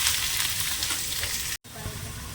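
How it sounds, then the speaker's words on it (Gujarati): Onion and chillies sizzle loudly in hot oil for a tempering that also holds mustard seeds, dried chilli, bay leaf and curry leaves. The hiss is dense and close and breaks off briefly before resuming. "જો આ ડુંગળી ને મરચાંને નાખ્યા છે વઘારમાં"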